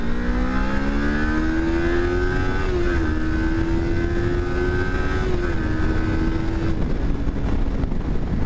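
A 2023 Kawasaki Ninja 400 KRT motorcycle pulling hard along an expressway, its engine note holding a steady high whine that climbs gradually through the gears, loud and close under heavy wind rush, with no speech.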